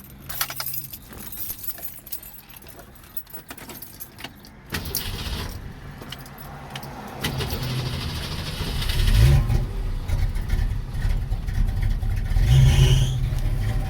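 A 1966 Ford Mustang with a carburetor that needs adjusting cranks and starts, then runs at a rough idle that rises in loudness over time, with keys jangling at the start, heard close up with no talking.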